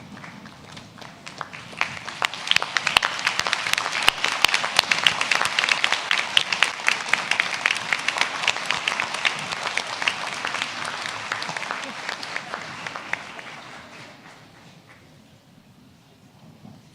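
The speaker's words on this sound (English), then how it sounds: "give your families and friends a little round of applause" Audience at a university conferring ceremony applauding graduates' families and friends, the clapping swelling quickly into loud, sustained applause in a large hall before tapering off to quiet.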